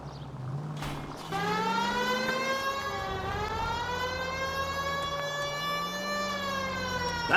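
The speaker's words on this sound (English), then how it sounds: "Turn on the siren and pull her over." Police car siren from the video game LA Noire winds up and wails steadily with rising and falling pitch, loud and continuous over faint engine rumble, no voices.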